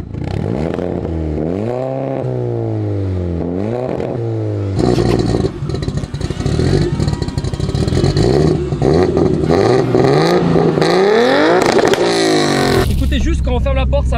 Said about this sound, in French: ce que je vous propose, c'est qu'on écoute le bruit des voitures